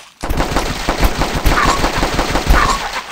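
Rapid automatic gunfire in a video game rattles loud and close in a continuous burst that runs nearly the whole clip after a brief silent start.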